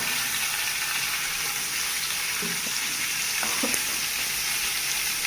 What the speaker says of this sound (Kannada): ಸ್ವಲ್ಪ ಫ್ರೈ ಆಗಬೇಕು ಗರಂ ಮಸಾಲೆ